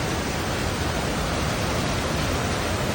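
A mountain river on a Himalayan trail rushes in a dense, unbroken roar, loud and close, with no voices over it.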